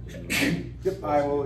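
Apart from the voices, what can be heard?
sneeze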